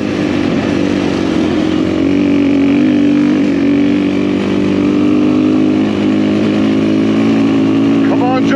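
A motorcycle ridden along roads in Portugal gives a loud, continuous engine drone that stays close and steady throughout, with a rider's voice talking over it.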